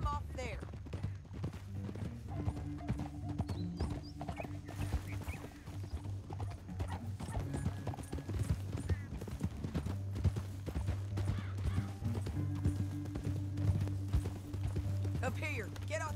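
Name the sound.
horses riding, hooves clip-clopping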